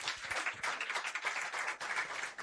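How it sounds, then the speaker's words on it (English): Warm audience applause at an International Women's Day business event, a dense steady wash of many hands clapping filling the hall, continuous and fairly loud with no voices over it. "Thank you for that warm applause"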